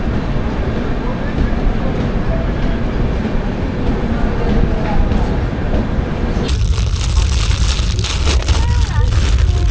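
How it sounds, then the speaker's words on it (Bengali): A passenger train rolls into Bardhaman junction at night, a loud continuous rumble and rattle of wagons heard from on board, with clattering wheel noise that grows harsher and brighter partway through. "আমাদের ট্রেন এখন বর্ধমান জংশনে ঢুকছে।"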